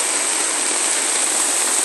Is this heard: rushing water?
yes